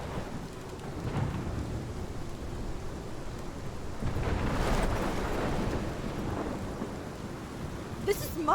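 Thunderstorm in the Life is Strange video game: steady rain with rolling thunder swelling loudly around the middle, wind-buffeted and continuous, no talking.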